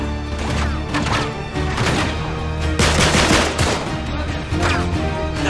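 Gunfire in Uncharted 3: Drake's Deception, dense rapid bursts and crackling shots layered over a continuous game soundtrack, loud and sustained throughout.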